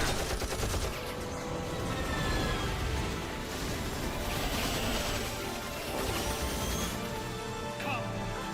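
Rapid gunfire in the Final Fantasy X game at Bevelle, sustained bursts and crashes packed densely across the whole stretch at steady loudness, mixed with game sound.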